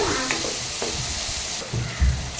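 Vegetables, turmeric, coriander and salt stir-fry in a hot pan for Maggi noodles at a local food stall, a steady loud sizzle with scraping stirs and a few heavier clatters, no talking.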